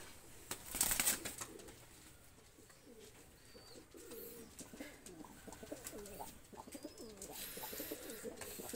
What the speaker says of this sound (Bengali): দুইটা কবুতর আমি ছেড়ে দেখাচ্ছি, দেখেন।